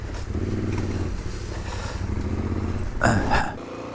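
A Honda XR650L motorcycle engine idling roughly on one cylinder, giving a low, uneven throb close by that ends in a short louder burst.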